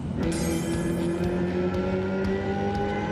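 Hyundai Ioniq 5 N electric car playing its synthetic Gran Turismo-style virtual engine sound, a loud continuous whine with layered rising tones, heard alone without talk.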